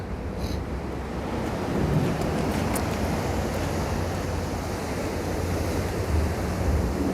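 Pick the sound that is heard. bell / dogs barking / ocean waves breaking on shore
ocean waves breaking on shore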